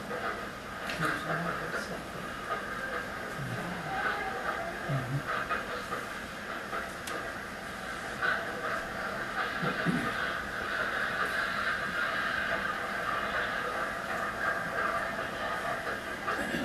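A CSX and Norfolk Southern freight train rolls past near a rail yard, a steady rumbling hiss with faint clicking wheels at moderate distance, continuing for the whole stretch with some muffled voices in the background.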